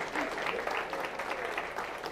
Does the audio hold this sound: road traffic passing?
no